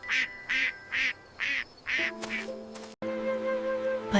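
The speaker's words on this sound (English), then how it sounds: "Mama Duck said, "Quack, quack, quack,"" Cartoon duck quacking in a children's animal song: five evenly spaced, loud quacks in a steady rhythm, followed by sustained musical tones.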